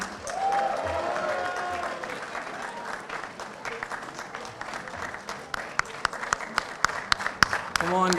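Crowd applause at a university Model UN closing ceremony, continuous clapping from many hands that grows more scattered and distinct toward the end, with a voice heard briefly early on.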